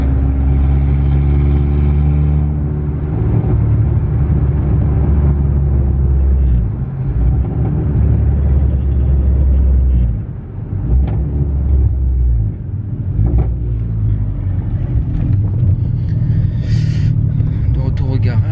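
A SEAT Leon Cupra R in sixth gear drones with a loud, steady low engine rumble as it cruises. Road noise swells and dips at times, and it sounds close and continuous throughout.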